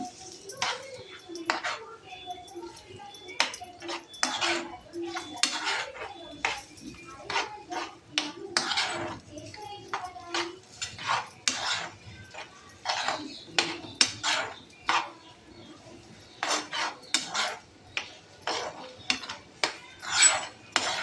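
A spoon clinks and scrapes steadily against a pan as eggs are stirred into bitter gourd and onion, a long run of quick, close metallic taps and rubs with someone talking intermittently.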